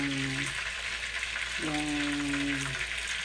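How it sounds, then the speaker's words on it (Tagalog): Chicken breast and drumsticks fry in oil with a steady broadband sizzle, while a voice or tonal sound hums over it in two stretches. "So, nag-fried ako ng chicken."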